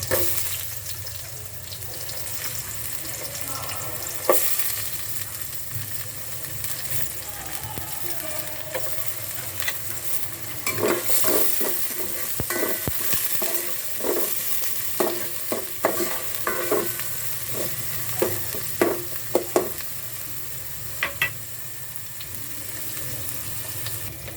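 Onions sautéing in a pan alongside garlic, with a constant hiss of frying and irregular spatula scrapes and knocks that grow busier partway through, close and without talk.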